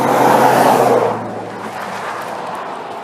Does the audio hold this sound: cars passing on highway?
yes